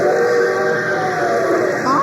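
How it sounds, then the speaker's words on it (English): A radio comedy train whistle effect sounds as a loud, steady, sustained tone with a rumbling train underneath, holding for about two seconds. "That train whistle sounds closer."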